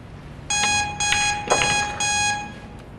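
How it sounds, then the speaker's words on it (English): Four evenly spaced electronic shot clock buzzer beeps at a pool match, each about half a second long, sounding loud and clear with no talking. "And she heard the 10-second buzzer."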